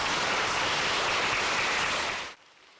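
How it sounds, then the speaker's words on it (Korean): Bereaved families in the public gallery of the National Assembly chamber applaud in a dense, even patter for about two seconds before it cuts off abruptly. "방청석에서 본회의 통과를 지켜본 유족 등은 박수와 인사로 감사의 뜻을 전했고"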